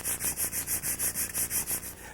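Sandpaper rubs back and forth over dried wood putty on unfinished wood, making about eleven even, rhythmic, hissing strokes close by; no voices.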